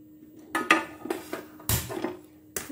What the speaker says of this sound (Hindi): ग्रिल पैन गर्म होने के लिए रख दिया।